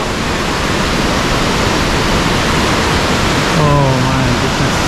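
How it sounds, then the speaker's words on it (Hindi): Himalayan waterfall on the Kheerganga trek in Himachal, a steady loud broadband roar of falling water that fills the whole clip, with a brief faint tonal sound near the end. "और ये है वो वाटरफॉल जिसका मैं आपको बता रहा था।"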